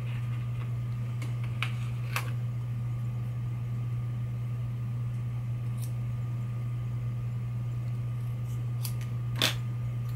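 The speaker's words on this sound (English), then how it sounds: "I'm gonna go ahead and cut this out" Scissors cut paper along an outline, producing sparse faint snips over a steady low electrical hum.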